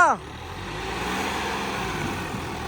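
A turbocharged tractor engine running steadily after a brief opening sound, its broad mechanical drone holding at an even, fairly loud level as it works through the gears.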